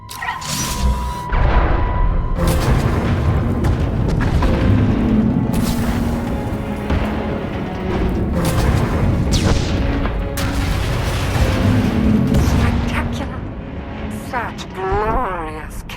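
Heavy booming blasts and weapon fire from a Star Wars video game battle fill a loud, dense stretch of sound, with rumbling impacts and mechanical whines, and a voice speaks near the start.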